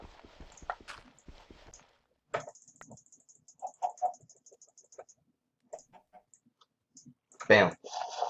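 A chicken in Minecraft clucks in short, scattered bursts mixed with footsteps and game sounds. Speech runs over the first part and a louder noise comes near the end.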